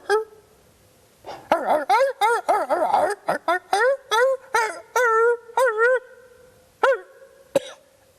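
A man imitates a dog barking, giving a rapid string of short, loud, voiced woof-like yelps in bursts, close to the listener, ending with a few scattered single barks.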